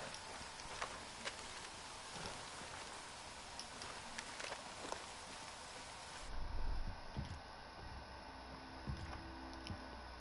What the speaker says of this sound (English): And it's raining out.